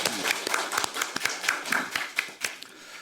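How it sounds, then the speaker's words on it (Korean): Applause at a wedding-industry policy meeting, a modest run of distinct, fairly sparse hand claps from a small seated audience, close and clear with little else around. "박수 한번 주십시오"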